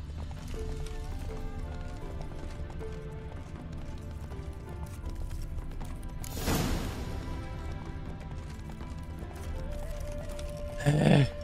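Horse hooves in The Witcher 3: Wild Hunt beat a steady clip-clop at a run, with a brief crash midway and a whinny near the end, over a quiet game background.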